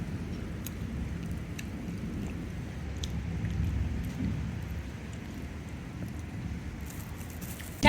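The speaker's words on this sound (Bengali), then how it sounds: "বৃষ্টি তো উঠছে।" Heavy rain pours steadily through a storm, a dense, even wash of noise at moderate loudness that holds for the whole stretch with no voices.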